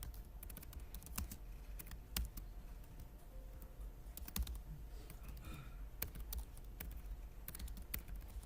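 Keys clatter steadily on a computer keyboard while a simple program is typed, a quiet run of irregular clicks with a few sharper, louder keystrokes standing out alone against a soft room hiss.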